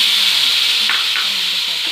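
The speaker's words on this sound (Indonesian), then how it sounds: "Kita panaskan minyak, kemudian kita masukkan bumbu halusnya dulu ya." Ground spice paste frying in hot oil for a tuna balado dish, giving a steady close sizzle and hiss while being stirred, with no talking.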